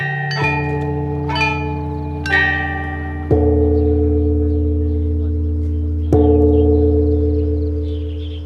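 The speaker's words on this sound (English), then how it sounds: "The melody is played on the top bells, the accompaniment on the giant bells below." Ancient Chinese bronze bell set rings out a slow melody on upper bells over deep accompanying tones from giant lower bells, each strike sounding loud and close with long, humming decays that overlap.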